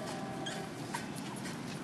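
Newborn puppies just after a bath give a faint, brief whimper, thin and high, over a steady background hiss.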